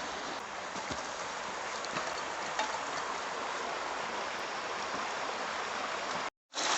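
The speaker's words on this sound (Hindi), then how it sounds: "बहुत देर बाद हमें पानी का कोई सोर्स मिला है, तो हम पानी पी लेते हैं और पानी भर लेते हैं।" Steady broadband rush of a mountain stream flowing on a trek toward Pindari Glacier, close and continuous with no voices, cutting out briefly near the end.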